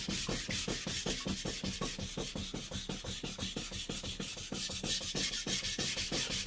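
Steady rhythmic rasping of a knife stroked back and forth on a Japanese whetstone, about three scrapes per second, even and continuous at close range.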